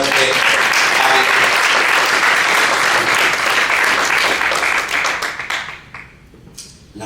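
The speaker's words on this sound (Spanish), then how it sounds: "denle un aplauso fuerte a Dios" Loud, sustained applause from a church congregation fills the space, steady dense clapping that tapers off near the end as a few scattered claps remain.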